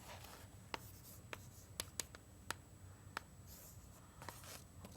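Chalk or marker tapping and scratching on a board as an answer is written out during a mathematics lecture on the nonlinear Schrödinger equation, a quiet run of irregular sharp clicks and strokes in a faintly humming room.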